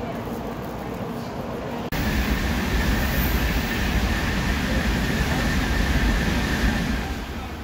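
A Shinkansen bullet train rides along in a steady, loud rush of rolling rail noise and wind heard from inside the car, starting abruptly after a brief quieter moment with faint talk.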